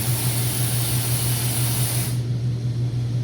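An oxy-acetylene welding torch hisses loudly and steadily up close as its oxygen valve is opened, a broad rushing jet over a low hum that drops away abruptly near the end.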